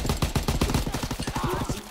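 Rapid automatic gunfire in Call of Duty: WW2, a dense burst of about a dozen evenly spaced shots followed by quieter fire, loud and close.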